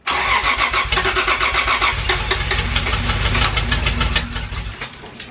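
A Toyota Supra fires for its first start, an engine already running loud and close with a rough, pulsing, revving roar that fades somewhat near the end.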